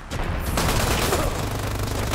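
Turret gunfire in the game Dirty Bomb on the Underground map, a loud, dense burst of rapid automatic shots rattling continuously close by with no talk over it.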